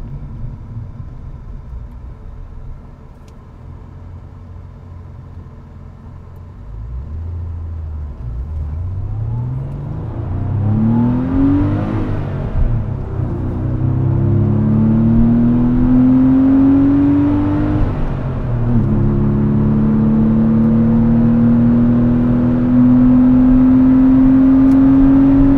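An air-cooled 1997 Porsche 993 engine accelerates hard. From inside the car, its loud droning rumble climbs steadily in pitch through the revs for about twenty-five seconds, with no talking over it.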